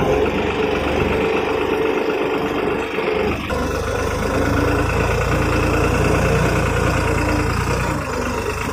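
A New Holland 3630 4x4 tractor engine runs loudly and steadily nearby while pulling a reversible plough, a deep continuous rumble with a slight shift in tone partway through.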